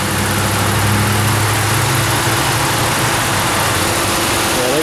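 Close under the hood, a 2019 Dodge 1500 4x4's 5.7-liter Hemi V8 with aluminum block and heads idles in a loud, smooth, unbroken hum.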